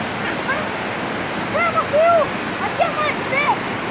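Waterfall Cachoeira da Bica beside the BR-262 highway, a steady broadband rush of falling water throughout, with voices and bird-like whistles over it.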